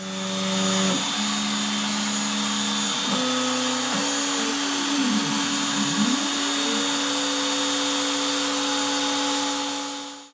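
An X-Carve CNC router carves an acrylic face shield, its spindle giving a loud, continuous whine whose pitch steps and sweeps as the cut changes, close up and uninterrupted for about ten seconds.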